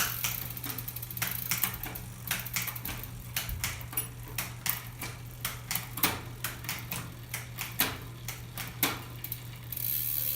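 Bicycle rear derailleur clicking down through the gears, a series of sharp mechanical ratchet clicks in an irregular rhythm over a steady low hum from the spinning drivetrain, close and fairly quiet.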